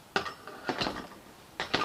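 A bolt is screwed down on a 2008 Suzuki Grand Vitara roof rack, giving three short, close metallic ratcheting bursts separated by brief pauses.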